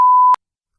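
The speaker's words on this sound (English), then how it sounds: "the whole point of the swear bleep is so it sort of masks my swearing so people can't hear it" A single short censor bleep, a clean steady tone lasting about a third of a second, loud and alone, cutting off sharply into silence.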